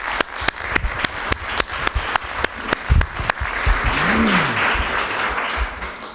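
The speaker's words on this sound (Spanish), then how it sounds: "Bien, un aplauso." Audience applause at a book presentation: a crowd claps in a dense, steady burst that fills the room, with a few sharp individual claps standing out at the start.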